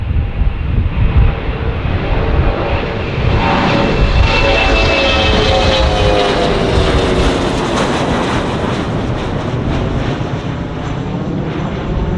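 A loud, steady airplane engine roar heard from onboard a small commuter flight in Hawaii, a dense drone with a broad rushing hiss that continues without a break.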